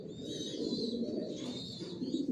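Johnson-line racing pigeons in a loft coo continuously in a low, throaty murmur, several birds overlapping at moderate volume with occasional higher chirps above.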